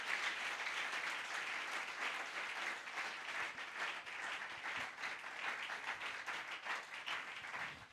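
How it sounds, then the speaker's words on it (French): A church congregation at a Sunday service applauds together in a sustained, dense round of clapping that holds steady for several seconds, heard at a moderate distance, with a few voices faintly mixed in. "Acclamons très fort le Seigneur Jésus."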